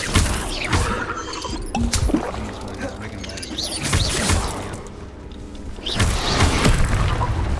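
Confringo blasting spell going off in Hogwarts Legacy, a few booming bursts with rumbling tails spread across the stretch, heard under a player's spoken commentary.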